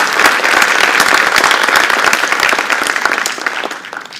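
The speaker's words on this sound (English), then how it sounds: "So let's give them another round of applause." Loud, sustained audience applause fills an alumni awards ceremony hall, a dense wash of many hands clapping that tapers off toward the end.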